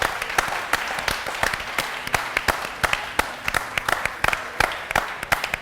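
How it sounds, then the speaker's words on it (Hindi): A studio audience at a televised Ramadan debate show claps after a speech. The applause is moderately loud, with sharp, separate claps in an uneven rhythm over a low crowd murmur. "तालियां इनके लिए, जजेस खड़े हो गए हैं,"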